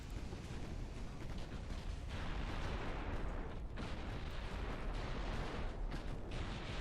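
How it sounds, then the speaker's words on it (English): Ship ammunition detonates in Ultimate Admiral: Dreadnoughts, heard as a dense, continuous roar of deep rumbling bursts with sharper cracks scattered through it. The noise is steady and muffled, as though coming from a distance. "ammo just detonated on the Malaya"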